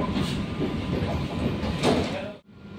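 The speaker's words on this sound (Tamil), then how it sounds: "சென்னை எக்மோர்லேருந்து நம்ம ட்ரெயின் கிளம்பிடுச்சுல" AC EMU suburban train leaving Chennai Egmore station, heard from inside the carriage. A continuous rumble of wheels and motors fills the clip, with a brief swell and a sudden drop near the end.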